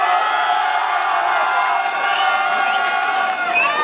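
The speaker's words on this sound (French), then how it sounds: "ceux qui pensent que NRQ a gagné, faites du bruit" Crowd at an MC rap battle cheering, whooping and shouting loudly and continuously to vote for a contestant, a dense roar of many voices with a few high shrieks near the end.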